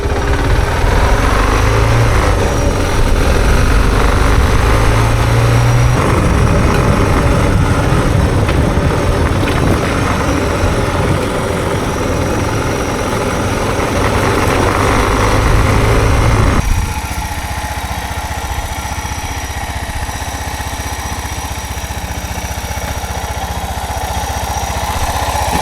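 A Suzuki DR650 dual sport motorcycle runs on a dirt road with a loud, continuous engine drone up close; partway through, the engine note and loudness drop to a lower, steadier hum.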